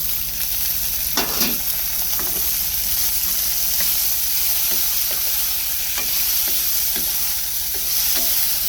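Onion, tomato and grated coconut are sautéed in a hot pan for a black chickpea curry, giving a steady loud sizzle with occasional scraping stirs up close.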